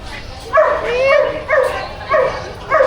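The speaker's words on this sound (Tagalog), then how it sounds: "laki ng aso" A large dog at a crowded pet market gives four short whining yips spaced about half a second apart, up close and fairly loud, over a murmur of market background.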